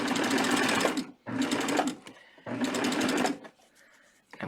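Serger stitching fabric for baby shorts, loud and close, running in three fast bursts with brief quiet stops between them.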